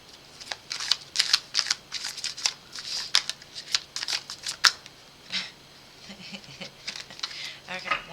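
Tarot cards are shuffled and riffled in a quick run of crisp, papery flicks and slaps, close and fairly quiet, with a short pause before a few more shuffles toward the end.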